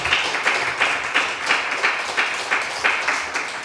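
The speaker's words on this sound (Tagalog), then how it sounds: "Let's give a clap offering to the Lord." A church congregation claps as a clap offering during a Sunday service, a steady rhythmic round of many hands beating together in unison at about two claps per second, loud and sustained throughout.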